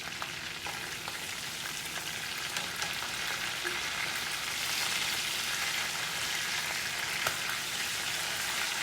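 Chicken pieces fry in a pan with a continuous crackling sizzle at moderate volume, with scattered pops throughout and no talking.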